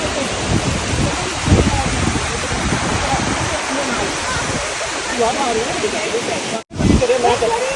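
Waterfall in Canada throwing spray, a heavy unbroken roar of falling water close by and loud, with someone speaking over it and a brief dropout near the end.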